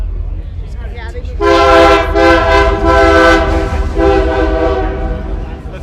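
Two locomotives sounding a train horn: a loud, sustained multi-tone horn blast starting after a second and lasting several seconds with a brief dip, over a steady low rumble of rail traffic.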